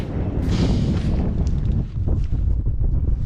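Strong wind buffets the microphone on an exposed hillside wild camp above Arrochar, a loud, continuous low rumble with surging gusts and no voices.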